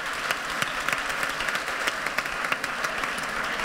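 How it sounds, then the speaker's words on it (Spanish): Audience applause for part-time web development students at a Madrid hackathon showcase, a dense, sustained crowd of clapping with sharp individual claps poking out, steady and fairly loud from start to finish. "vamos a dar otro aplauso a todos los alumnos de part-time de Web Development"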